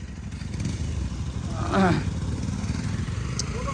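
An off-road motorcycle engine chugs at low revs on a rough, slippery trail, a steady close rumble with a brief rise in the middle, while people talk over it.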